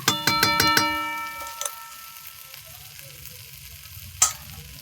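Mutton added to a pan of fried ginger-garlic spice paste for a goat curry, a few sharp clatters as it goes in, then a steady close sizzle with one more clink near the end, no voices.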